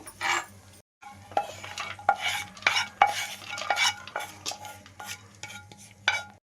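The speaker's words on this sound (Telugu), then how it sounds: "మీడియం ఫ్లేమ్లో పెట్టుకొని వేయించుకుంటున్నాను నేను" Semiya (vermicelli) for sheer kurma frying in a pan over a medium flame, with repeated scraping stirs and light clinks of a spoon against the pan over a steady low hum, close and fairly loud with no talking.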